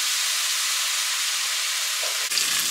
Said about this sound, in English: we're gonna saute this onion